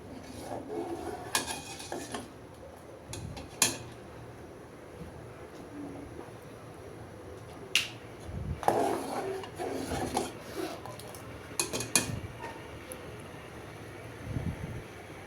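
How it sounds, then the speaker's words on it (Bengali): Beaten egg is stirred into soup in a cooking pot, giving quiet intermittent scrapes and clinks of a utensil against the pot, with a few sharper knocks between softer swishing strokes. "এখন তো ডিম গুলিয়ে দিয়ে দিচ্ছি"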